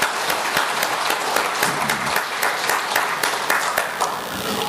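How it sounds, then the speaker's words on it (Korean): Church congregation applauding together in a sanctuary, a steady dense wash of many hands clapping at close range, with no talking over it. "하나님께 박수를 보겠습니다."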